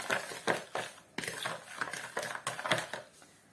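Egg, salt and sugar are stirred together for yeast dough, a utensil tapping and scraping quickly against a bowl in an irregular series of close, sharp clicks and knocks with no talking.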